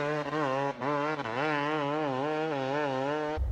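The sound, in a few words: car engine running while cruising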